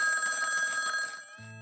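A telephone bell rings in a steady, bright trill for over a second, then stops abruptly, with a short low tone following; no talking over it.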